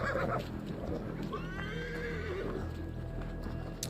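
A horse whinnies in the video game Assassin's Creed Valhalla, with a shrill, wavering neigh over a steady low background rumble, with a few faint hoof clops.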